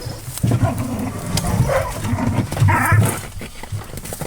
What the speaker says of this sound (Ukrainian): Я не буду столько собак кормить.